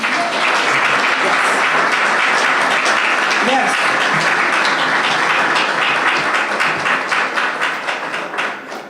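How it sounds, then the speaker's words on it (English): An audience at a high school STEM program event gives a loud, sustained round of applause for the program's advisors. The clapping is dense and even, with a brief voice partway through, and it fades slightly at the close. "please give your advisors a round of applause"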